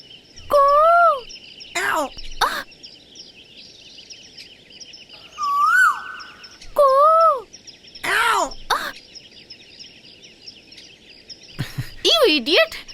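An Asian koel calls in a series of rising, whistled notes, loud and close, repeated several times over about twelve seconds, with sharp bursts of other sounds breaking in between.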